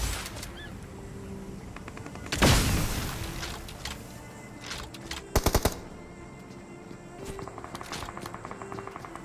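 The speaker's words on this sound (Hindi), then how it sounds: "मैंने यहाँ पर देखो रॉकेट लॉन्चर यूज किया।" Gunfire and explosions from the BGMI mobile battle royale game in a snowy winter mode, with one big boom-like blast and a quick burst of sharp shots over faint game ambience and no talk.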